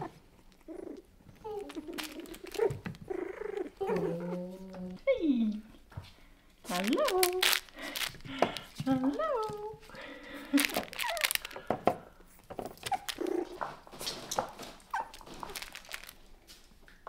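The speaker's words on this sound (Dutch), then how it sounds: "Is dat een blafje?" Four-week-old toy poodle puppies give small, high yips and whimpers during play, mixed with a person talking and some crinkling and rustling nearby.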